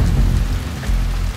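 Heavy rain in the feudal Japan stealth game Shadow Tactics: Blades of the Shogun, a loud, dense rush of downpour with deep rumbling low end, steady and unbroken.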